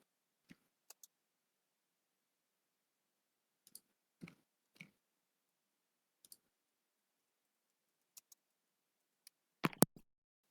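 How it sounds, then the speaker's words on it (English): Sparse keyboard typing, quiet and close, in short scattered bursts of a few key clicks separated by silent gaps, ending with a quick cluster of keystrokes. "Athena's typing."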